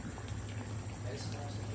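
Moon fish (hiwas) simmers in a pot of pure vinegar, a low bubbling boil heard close, mixed with a steady hum and broad noise, while a person talks over it.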